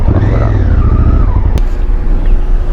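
A motorcycle engine hums and shifts in pitch as the bike is brought to a stop and parked outside the Iranian embassy. A sharp click cuts through partway, then the engine settles into a steady low idle close by.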